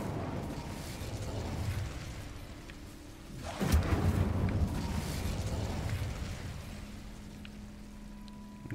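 The Incendio fire spell from the game Hogwarts Legacy is cast, a sudden whooshing burst of flame that roars for a couple of seconds over a low rumbling background, then fades.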